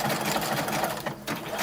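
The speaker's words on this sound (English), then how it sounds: "Doing an overcast seam, which is similar to the original serging seam that I found on the other original." A sewing machine runs a fast, even stitching whir close by while sewing an overcast seam on a 1930s-style dress, with a short dip near the end.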